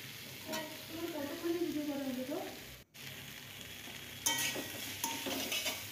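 Cumin-chilli paste fries in a pan for a pumpkin and prawn curry, a soft close sizzle with stirring scrapes; a brief muffled voice-like sound early, a short silent cut, then louder stirring.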